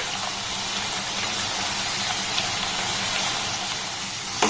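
Potato chips deep-frying in hot oil over a high gas flame: a steady, loud, dense sizzling hiss that continues unbroken throughout.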